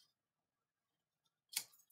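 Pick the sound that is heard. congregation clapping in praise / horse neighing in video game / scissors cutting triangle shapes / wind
scissors cutting triangle shapes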